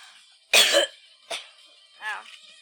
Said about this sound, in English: I needed a little coughing break.